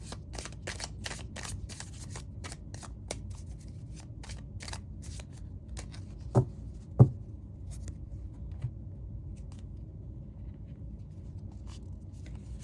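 Light Seer tarot cards are shuffled in a quiet room, making rapid faint riffling clicks and flicks at first, then sparser card taps and a couple of sharper knocks.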